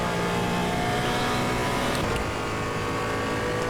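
Steady, loud engine drone from a Porsche race car lapping in Assetto Corsa EVO, holding a continuous high rev with no pauses across the few seconds.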